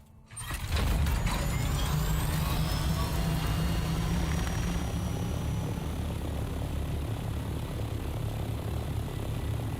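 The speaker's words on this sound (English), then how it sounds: "Where's my ornithopter?" An ornithopter in the video game Dune Awakening starts up abruptly and holds a loud, continuous mechanical clatter and whirring drone with a low rumble, close and steady, with no talk.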